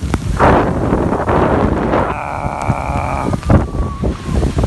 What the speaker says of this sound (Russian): Конкретный дождь и конкретный ветер.